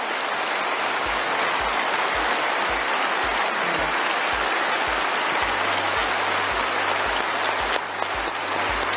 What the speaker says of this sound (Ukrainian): Ось так піднесено гучними оплесками у Європарламенті вітають Олександра Радчука